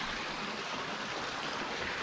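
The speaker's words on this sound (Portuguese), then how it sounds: "Essa aqui é a vista da parte de cima aqui da cachoeira Véu de Noiva." The Véu de Noiva waterfall at Itaitu, Jacobina, heard from above as a steady, broad rushing roar of falling water, continuous and even throughout.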